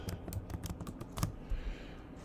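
A computer keyboard being typed on to enter a search query, with a quick run of close, crisp key clicks that fades into a quiet room tone with no talking.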